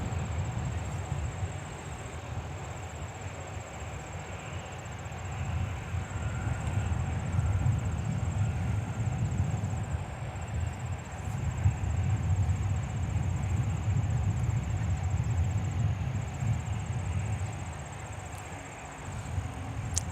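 An American Airlines Boeing 737-800 taking off at the airport, a steady distant low roar of jet engines that builds and holds for a long stretch, with no talk.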